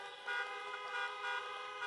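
Many car horns at a drive-in campaign rally in Des Moines, Iowa blare together in a sustained, layered honking chorus that holds steady throughout.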